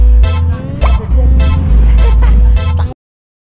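Road traffic with cars and buses, a loud, close rumble of engines punctuated by repeated bursts of noise and a brief toot, with talk over it before it cuts off abruptly.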